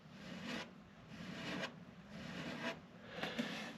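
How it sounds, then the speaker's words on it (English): Quiet, close rubbing sounds of fingers dragging across rough fiberglass on a homemade catamaran, in several slow strokes with brief pauses between. "As I move my fingers across it, you might even be able to hear the sound of the roughness."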